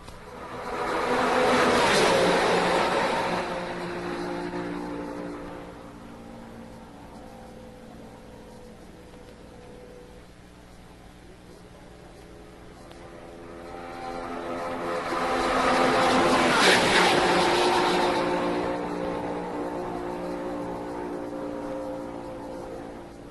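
A classic Formula One racing car with a V12 engine, its harmonic roar swelling loud twice as it passes close by, then fading between the passes, with no one speaking.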